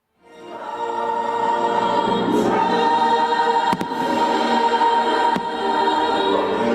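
Fireworks bursting over a theme park castle, a steady loud rumble of crackling and booming with a few sharp pops standing out, continuous throughout with no talking.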